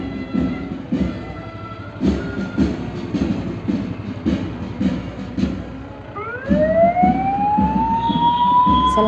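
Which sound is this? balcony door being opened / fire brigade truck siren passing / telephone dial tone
fire brigade truck siren passing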